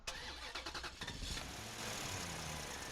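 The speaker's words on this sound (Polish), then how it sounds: "odpalanie silnika samochodu, bo takiego dźwięku nie nagraliście na planie" A car engine cranks with a quick run of starter clicks and whirs, then catches and settles into a steady, close mid-pitched idle, used as a street-scene sound effect.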